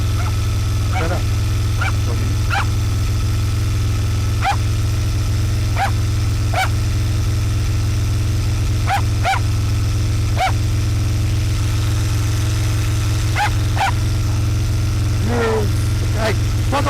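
A dog barks in sharp, irregular bursts beside an Aprilia RSV1000 motorcycle on its first run. The engine idles loudly and steadily underneath the whole time.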